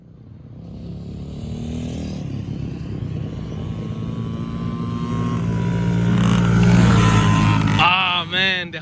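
Two kids' dirt bikes, a Yamaha PW50 and a Honda CRF50F, drag racing: small buzzing engines rev up and grow louder over several seconds, then a high rising whine near the end as one passes close.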